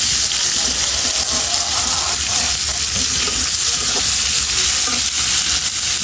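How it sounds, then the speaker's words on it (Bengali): Vegetables fry in hot oil in a pan, a loud, dense, continuous sizzle close up, with faint stirring scrapes now and then. "এগুলো হচ্ছে একটু তেলে ভাজবো"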